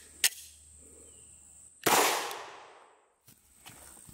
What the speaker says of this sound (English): Remington 115 grain, and I have a Glock 19.